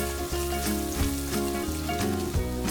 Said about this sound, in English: add oil, add 3 whole eggs, add a pinch of salt and fry it until the egg is hard scrambled